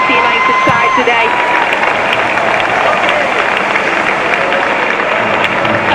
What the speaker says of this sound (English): And we're seeing the applause for Leah Galton